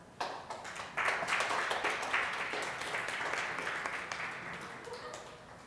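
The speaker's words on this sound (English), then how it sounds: "If my students could please stand up so we can give you a round of applause." An audience at a design and digital fabrication talk applauds students standing up, a soft, steady patter of many hands clapping heard from a distance, sustained for several seconds.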